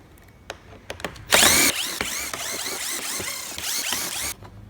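Power drill driving out door panel screws on a Toyota 86, a quick whir then a long run of busy whining bursts and rattling, close and fairly loud, ending in softer clicks.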